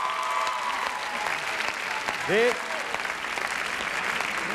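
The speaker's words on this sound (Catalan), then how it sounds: "jo crec que es mereixen un aplaudiment molt fort als 9 concursants que hem sentit fins ara" Audience applause for nine contestants at a spelling competition final, with steady clapping throughout and a brief spoken word partway through.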